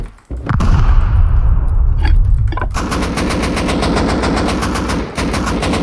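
Rapid automatic gunfire from a Rust raid fights in continuous loud bursts, a dense rattling stream of shots that barely pauses for several seconds.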